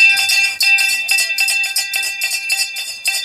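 A bell rings rapidly and loudly over and over in a steady clanging rhythm to mark the bell lap at a masters track cycling elimination race, with no voices over it.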